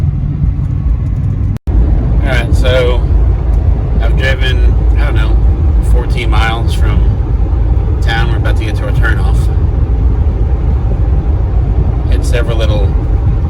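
Steady low road rumble fills the cabin of a car driving home, continuous and fairly loud, with voices talking over it and one brief dropout near the start.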